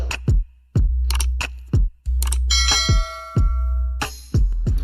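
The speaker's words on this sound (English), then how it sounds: "you press the notification bell" A bright bell-like notification chime rings out over a repeating low thumping beat, with short clicks and a sustained ringing tone partway through, loud and close.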